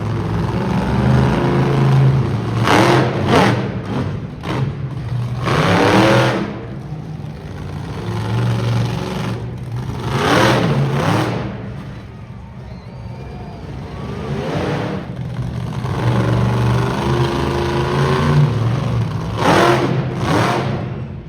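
A monster truck engine revs repeatedly at an indoor motorsports show, loud throaty bursts rising and falling over a constant low rumble, with a pause in the middle before more revving.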